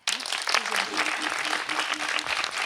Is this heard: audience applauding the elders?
yes